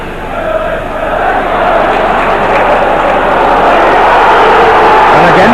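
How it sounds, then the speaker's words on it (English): A dense, roaring football crowd at a 1989-90 Leeds v Hull match fills the stadium, a steady wall of massed voices that swells and stays loud throughout. "And again the crowd incensed."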